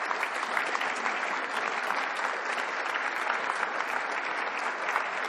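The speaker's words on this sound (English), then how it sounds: "I would like a round of applause for the staff" A large audience at a 2016 presidential investiture ceremony applauds the staff, with dense, even clapping that is loud and continuous from start to finish and no talking over it.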